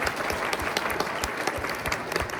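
Wedding guests in a hall applaud the bride's father, a steady, dense crowd clapping that carries evenly through the moment at moderate volume with no speech over it.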